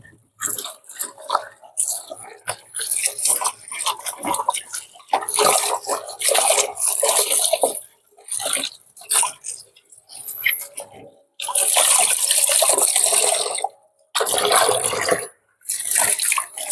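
Motorcycle helmet foam padding is rinsed under running water in bursts, splashing and gushing with short pauses between pours.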